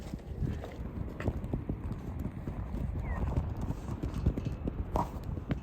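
Hooves of yak crossbreeds clopping steadily along a rocky Everest Base Camp trail between Deboche and Dingboche, a quick irregular run of close, sharp steps over faint outdoor background.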